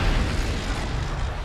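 A mech blowing up in MechWarrior Online, a dense, loud rumbling blast with heavy low-end boom that sustains evenly for its full length, close and without any voices.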